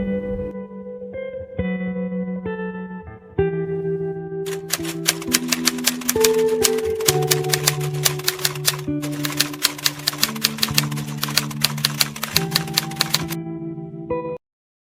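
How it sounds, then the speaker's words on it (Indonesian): Manual typewriter typing out the Indonesian proclamation text, rapid uneven key strikes with sharp clacks, loud and close, over a sustained musical background with echo. "Teks proklamasi Indonesia diketik oleh Sayuti Malik."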